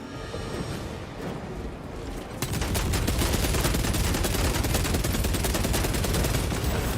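Gunfire in Warhammer 40,000: Space Marine 2, first muffled and distant, then bursting into a loud, dense, continuous automatic barrage that fills the rest of the stretch with no voices.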